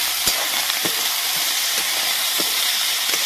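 Small village snails fry in hot oil with onion and garlic, a steady bright sizzle and hiss with occasional soft pops and stirring clicks, close and continuous.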